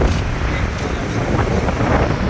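Steady wind on a fishing trip by the water buffets the microphone with a constant loud, rumbling roar throughout.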